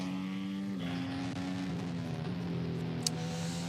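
Onboard sound from the 2024 Red Bull Formula 1 car at pre-season testing, a high, steady engine whine whose pitch steps down and shifts through gear changes, with a sharp click near the end.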